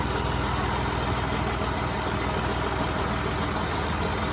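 A 2008 Dodge Nitro with the 3.7 engine idling after a spark plug replacement, a steady, even engine drone with a continuous low rumble, close and unbroken with no voices.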